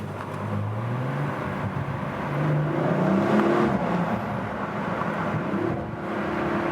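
An Audi RS5 accelerates hard out of a tunnel, its engine note climbing through rising revs with a steady, loud roar and enclosed echo, no talking over it.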